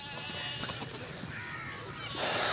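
Goats bleat at a goat farm in Dera Ghazi Khan among castrated males, horned bucks, females and breeders, a loud continuous din of many animals with noisy background throughout.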